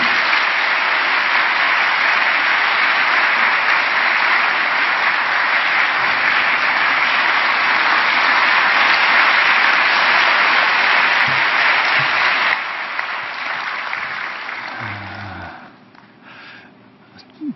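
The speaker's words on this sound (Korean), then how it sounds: "우리 큰 박수로 우리 함께 환영하겠습니다." A church congregation claps loudly to welcome a guest pastor at a dawn prayer service, sustained dense applause that thins and fades away toward the end.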